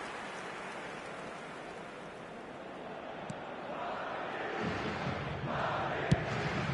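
A stadium crowd in an eFootball match roars in a steady, dense wash of cheering that swells louder toward the end, with a game commentator's voice faintly mixed in.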